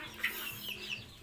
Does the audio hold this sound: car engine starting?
no